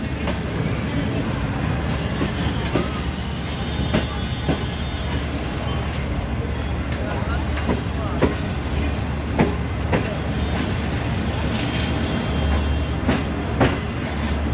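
Shalimar Express hauled by GU40 locomotive 9033 pulls slowly out of the Faisalabad station yard, a steady rumble of rolling wagons with repeated wheel clicks and occasional high squeals throughout, heard from on board.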